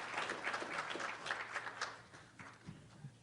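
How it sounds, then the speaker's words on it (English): Audience at an event honoring Native American graduating seniors claps for them in a steady, moderately faint ripple of many hands that thins toward the end. "let's give the seniors a round of applause"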